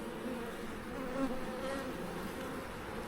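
Honeybees buzz steadily in a dense, continuous drone throughout an open hive inspection, close by and even in loudness with no talking.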